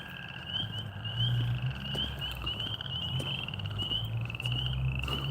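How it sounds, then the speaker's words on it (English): A steady, loud chorus of high, pulsing insect chirps, probably crickets, fills a park walk, with a dense low croaking layer underneath and no talking. "And crickets."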